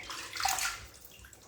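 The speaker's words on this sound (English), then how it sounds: "Now, I'm going to rinse my hands" Running water splashes over hands being rinsed in a bathroom, a close, steady rushing wash lasting only a moment.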